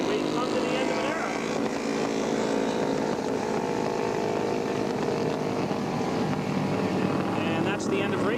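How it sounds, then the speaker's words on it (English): Racing vehicles circle Bryar Motorsports Park in Loudon, NH, in 1989 on a cool-off lap after the final race, their engines droning steadily in the distance under a commentator's talk. "as Power and Henning circulate on their cool-off lap after the most exciting race of the weekend"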